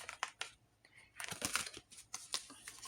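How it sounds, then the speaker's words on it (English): Quiet papery riffling and soft slaps of oracle cards being shuffled in short bursts, close by, with small pauses between handfuls. "I'm going to keep shuffling here"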